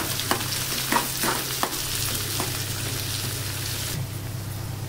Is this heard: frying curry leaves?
yes